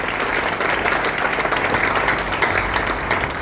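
Congregation applauding the Lord during a church worship service, a steady dense wash of clapping hands that holds at an even level throughout.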